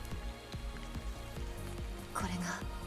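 Rain falls in the Stellar Blade video game as the character rests at a camp, a soft steady patter with scattered drip ticks, and a brief voice-like sound near the end.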